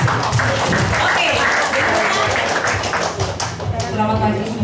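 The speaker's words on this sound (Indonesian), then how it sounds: "tepuk tangan." Audience applause at an agency club gathering, brisk and fairly close, with steady clapping that carries on throughout and sounds over some background voices.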